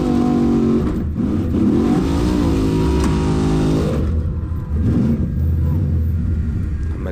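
Formula Offroad car at an Icelandic off-road course in Egilsstadir, its engine revving loudly and continuously as it climbs toward the final gate, roaring throughout with rising and falling pitch.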